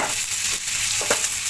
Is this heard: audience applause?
no